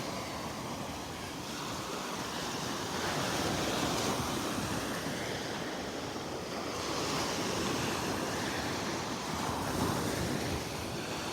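Ocean surf rolls onto a beach in North Naples, Florida, a continuous wash of breaking waves that swells and eases in slow surges, with wind buffeting the microphone and no voices.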